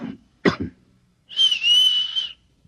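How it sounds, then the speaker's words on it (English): In an old-time radio drama, two short throaty coughs come close together, then after a pause a single sustained high whistle answers, clear and close with no talk around it. "Look, I'll cough twice, like this. And you whistle back."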